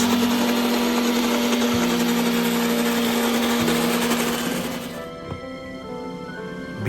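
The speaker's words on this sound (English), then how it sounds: "Place everything onto a blender, then blend into a fine," An electric blender grinds spices with cumin seeds and chilies into a fine paste, a loud steady high-pitched whine that cuts off sharply near the end, leaving a quieter hum.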